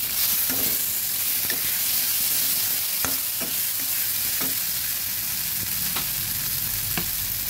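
Spices sauté with nuts in a pan with a little water for a fish-head and kachu greens dish, a constant loud sizzle broken by a spoon scraping and stirring every second or so.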